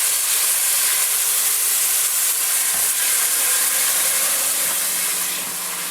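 Onions sautéing in a pan, a loud continuous broadband sizzle and hiss that holds steady throughout with no talk.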